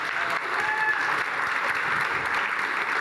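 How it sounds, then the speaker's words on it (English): Steady, dense audience applause fills a pitch competition hall, a continuous even round of clapping with no break, loud and close throughout. "Another round of applause."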